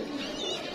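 A domestic pigeon coos once, a soft low murmur heard close by in a pigeon-keeping setting.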